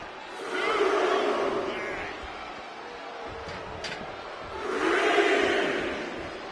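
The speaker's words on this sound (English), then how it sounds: "Trish getting the crowd behind her now." A wrestling arena crowd in the WWE 2K24 video game cheers in two swelling waves, loud and broad with a quieter lull between them.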